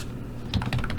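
Rapid clicking of keys on a computer keyboard whose battery seems to be running low, with the strokes growing louder and denser in the second half. Close and clear, with no voices.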